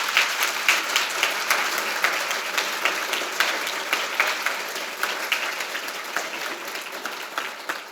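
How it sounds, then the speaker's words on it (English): An audience at a Chamber of Commerce women-in-business breakfast applauds, a sustained, even patter of many hands at moderate distance that carries on without a break. "Let's just give them a round of applause this morning."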